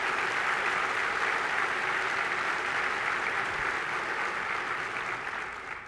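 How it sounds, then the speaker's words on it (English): A large convention audience at an Air Force Association event applauds airmen and guardians, a dense, steady wash of clapping that holds at full strength for several seconds and fades slightly at the end. "y'all give them a hand clap"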